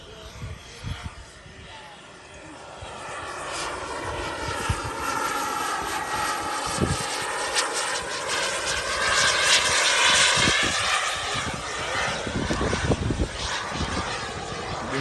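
A fast BDX Aero Sport radio-controlled model plane with flaps down makes a low pass, its propeller engine whine rising steadily to a loud peak and then easing off, heard alone over outdoor wind noise.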